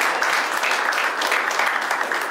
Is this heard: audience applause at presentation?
yes